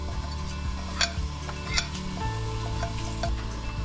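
Garam masala sizzles and fries in olive oil in a karahi, a steady close crackle with a couple of sharp clinks from stirring, no voices.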